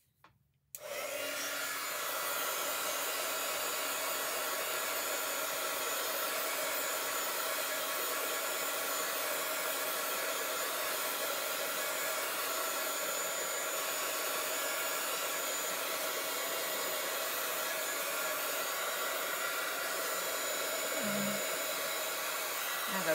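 A heat tool or dryer blows steadily to dry ink on a handmade encouragement card, a loud continuous whoosh that starts abruptly and holds unbroken for over twenty seconds with no talking.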